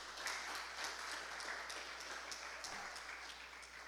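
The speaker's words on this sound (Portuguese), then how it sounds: "Aplauda o Senhor." A church congregation claps during a Portuguese-language sermon, a soft, continuous patter of many hands heard at a distance with a low steady hum underneath.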